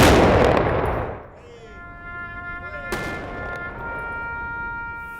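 Rifle volley fired at a veterans ceremony honoring Haudenosaunee service members, a loud sharp report opening the clip followed by a second crack about two seconds later, with ringing tones lingering between.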